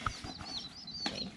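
Dual-purpose chickens clucking softly nearby, with a few brief calls and some wing flutter in a quiet enclosure.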